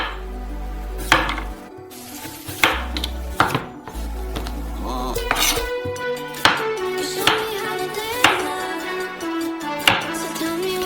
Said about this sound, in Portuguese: Cortamos uma cenoura ao meio e as fatiamos.